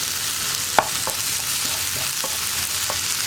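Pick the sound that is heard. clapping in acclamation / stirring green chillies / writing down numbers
stirring green chillies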